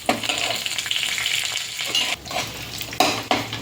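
Mustard seeds, lentils, curry leaves and dried red chillies sizzle and crackle steadily in hot oil for a peanut chutney tempering, with a spoon stirring and scraping the pan now and then.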